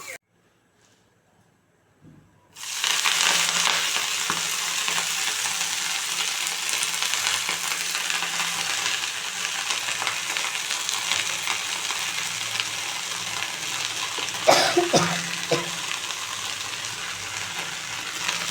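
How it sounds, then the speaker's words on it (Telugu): Fenugreek leaves fry in a pan after green chillies and garlic, a constant loud hiss and crackle that starts after a short near-silent opening, with a louder clatter of stirring about two-thirds of the way through. "మెంతం కూర మంచిగా ఫ్రై చేసుకోవాలి"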